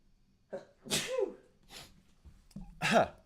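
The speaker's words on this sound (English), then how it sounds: "Excuse me, I'm gonna sneeze." A sharp sneeze bursts out near the mic, preceded by a breathy intake, followed by brief murmured sounds and a second, smaller sneeze-like burst.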